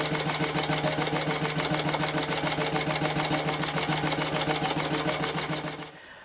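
An old stationary engine producing 11 horsepower at 270 revolutions per minute, running with a steady rapid mechanical chugging and knocking, loud and close, then abruptly dropping away near the end.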